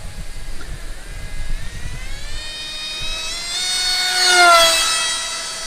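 An electric RC F-22 Raptor model jet on a 3-cell battery with an NTM 2200 motor and a 6.4 prop flies past, its motor whine rising in pitch and swelling louder as it nears, then holding.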